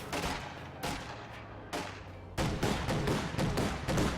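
Rapid bursts of gunfire in a World War II strategy game battle with a Panzer IV tank and infantry, loud cracking volleys in quick succession, some spaced shots then dense sustained fire.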